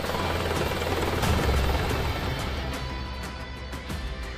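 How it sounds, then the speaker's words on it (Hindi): An Apache attack helicopter flies close by, its rotor blades thudding in a rapid, steady rhythm over a loud continuous turbine whine that fades slightly toward the end, with no voices. "अपाचे हेलीकॉप्टर आसमान में करीब 280 किलोमीटर प्रति घंटे की रफ्तार से उड़ते हैं।"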